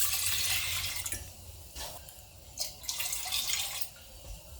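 Water splashes and trickles into a pot of vinegar brine for pickling jalapeno and banana pepper rings, in a few uneven bursts of soft, close pouring with short pauses between them.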